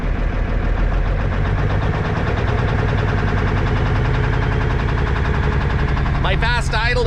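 A Kenworth K100E truck engine runs at fast idle with the pedal held down, a loud steady rumble throughout; a voice talks over it near the end.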